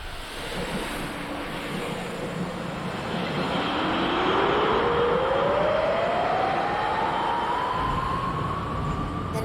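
A train at a station platform sounds as a loud, steady rumble, while a rising whine climbs slowly over several seconds.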